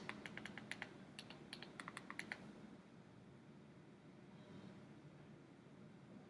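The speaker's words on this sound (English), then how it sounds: "I have to enter my password in over here" A password is tapped out on a computer keyboard in a quick burst of light clicks, which then stops and leaves a soft steady fan-like hum in a quiet room.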